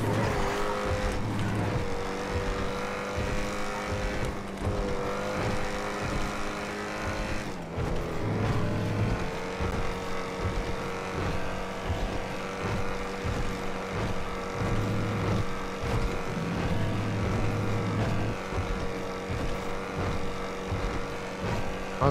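A car engine races hard in GTA roleplay, droning loudly and continuously at high revs with shifting pitch, brief dips around gear changes and faint tire noise, with no voices.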